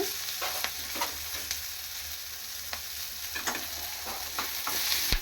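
Masala with coriander powder and garam masala sizzles steadily in a hot pan for spinach paneer gravy, while a spoon scrapes and stirs in irregular strokes.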